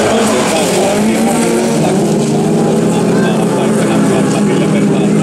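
Race cars roaring at speed around a track, with dense engine noise sustained across the whole stretch beneath excited commentary, loud and continuous without a break.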